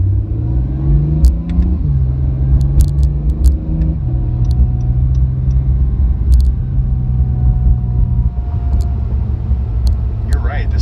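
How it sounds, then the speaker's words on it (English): 2018 Acura NSX gas engine cutting back in after electric-only driving: a smooth, steady in-cabin engine hum with shifting tones as it runs, heard under occasional conversation. "Gas motor's back on."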